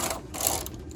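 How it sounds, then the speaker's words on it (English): A knitting machine carriage runs across the needle bed knitting two rows at tension setting 5 for an open lace knit, giving a close, steady mechanical clatter and whir with no talking. "I'm going to go ahead and knit 2 rows."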